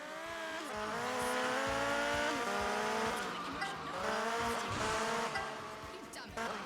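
A motorcycle in a Grand Theft Auto street race braking hard, with engine whine sliding down in pitch and tire skidding over background music, engine revving back up afterward; no voices.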